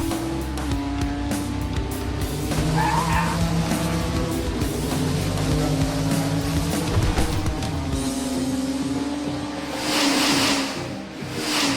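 Hot Wheels die-cast cars, including a pickup, a Superbird and a Camaro, race down a track with a continuous dense whirring rattle of small wheels, steady and loud throughout.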